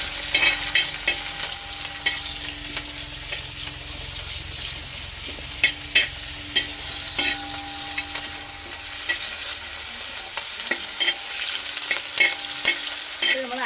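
Onion fries in hot oil while being stirred, making a continuous close sizzle dotted with sharp scraping and tapping clicks from the utensil. No voices are heard.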